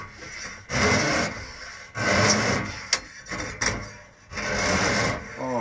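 A chimney sweep brush on a rod scrapes soot inside an RV flue pipe, making three bursts of loud, rough rasping strokes separated by short pauses, with a few sharp knocks in between.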